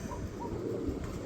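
A pair of pigeons coo softly at close range, with a few low, brief, rounded calls over quiet background hum.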